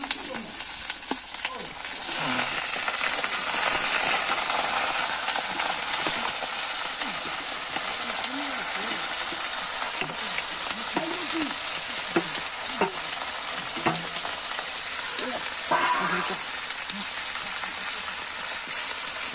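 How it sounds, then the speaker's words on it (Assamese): Meat frying in hot oil with onion and spices, a steady loud sizzle throughout with occasional stirring scrapes and clinks in the pan, no voices. "মাংসটা ফ্রাই করে লম"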